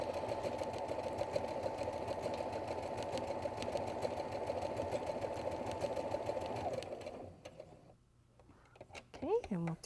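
A sewing machine stitching faux appliqué on fabric with all-purpose polyester thread: a steady, fast, close mechanical whir and rattle for several seconds, then it stops, leaving soft handling noises and a brief voice.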